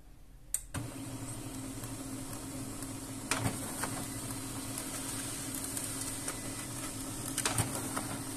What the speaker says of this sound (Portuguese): Vai puxar duas folhas mostrando as configurações da impressora